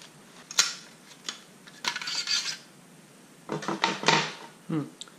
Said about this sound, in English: I think it's just a matter of unscrewing all these screws now